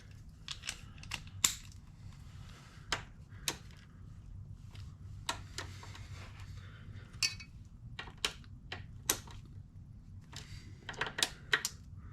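Pinch bolts on a motorcycle's front fork being tightened during a race bike build, heard as scattered sharp metallic clicks and ratchet ticks, some in quick bursts, over a low steady hum in a quiet workshop.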